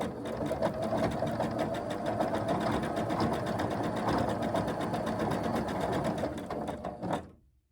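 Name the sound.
sewing machine running with a weird noise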